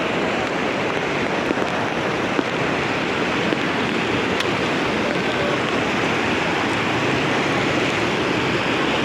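Floodwater rushes through the Khahare stream in Boudha as a loud, unbroken roar that holds steady throughout, with no voices.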